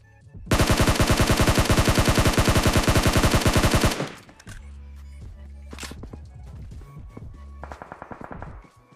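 Automatic rifle fire with a red dot sight in PUBG Mobile, a loud rapid burst of roughly three and a half seconds, then quieter scattered shots and game ambience.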